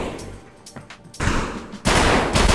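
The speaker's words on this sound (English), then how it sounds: "A flashbang round." Two loud, close blasts from a flashbang round fired in Escape from Tarkov, a game set in a gritty combat zone, each bursting suddenly and then sustaining a harsh, broadband roar after softer scattered shots.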